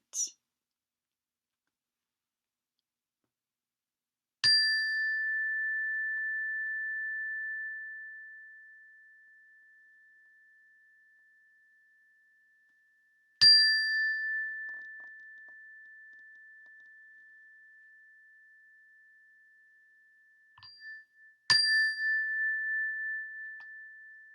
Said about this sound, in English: Allow the sound of the bell to bring you into the present moment.